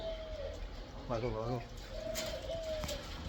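Pigeons in a park in Kishoreganj, with a short, close cooing call in the middle between faint whistly tones against steady outdoor background noise.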